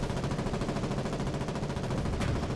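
Rapid automatic gunfire rattles continuously and loudly in a multiplayer war video game set in a colonial-era civil war, a dense fusillade with no talking during the burst.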